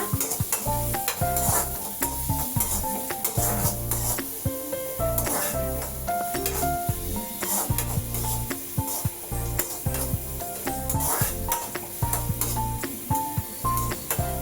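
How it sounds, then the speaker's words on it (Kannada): Onions fry in a pan with a steady sizzle, with frequent stirring scrapes close by and music playing underneath. "ಆ ಥರ ಫ್ರೈ ಮಾಡ್ಕೋಬೇಕು ಈರುಳ್ಳಿನ"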